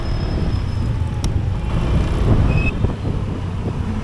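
A 2026 Honda Beat scooter accelerates on a road, its small engine droning low and steady under broadband wind rush, with a brief high whine partway through.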